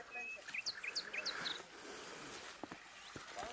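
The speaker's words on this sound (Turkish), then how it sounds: "kuş sesi duyuyor musunuz dostlar" Birds singing outdoors in a quiet natural spot, a series of high bright chirps and whistles in the first seconds, fairly faint and close, followed by scattered soft footsteps and rustling.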